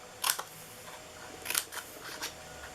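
Scissors snip through a cardstock pumpkin treat box up to a scored fold line, giving a few short, crisp close cuts in separate bursts against a quiet room.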